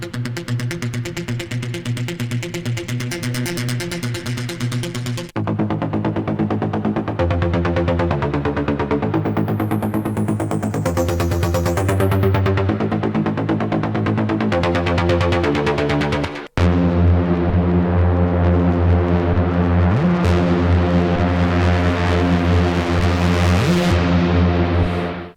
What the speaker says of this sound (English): And then finally you have some synth sound.